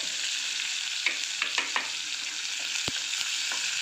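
Curry leaves and chopped onion fry in a pan, a steady close sizzle with occasional soft stirring scrapes and one sharp tap.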